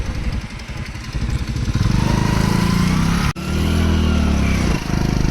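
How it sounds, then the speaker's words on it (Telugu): Several scooters ride down a hill road between Hindupur and Penukonda, their engines droning loudly and steadily close by with a rising hum as they pass, amid continuous wind rush. "చాలా మంది చాలా స్కూటీలో వస్తున్నాయి పైన నుంచి."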